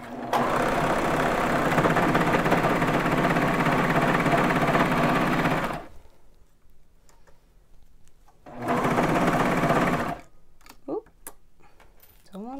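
A Baby Lock Vibrant serger runs in two steady, rapid bursts while sewing a cuff onto a sleeve, with a pause and soft handling noises between them and a short quiet voice near the end.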